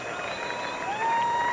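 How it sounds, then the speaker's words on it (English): Stadium crowd at a 1993 Denver Broncos football game applauding as an injured player is carried off on a stretcher, a broad, sustained wash of clapping that grows slightly louder with a faint whistle-like tone above it. "now the applause for Derek Russell as he is taken off in the stretcher"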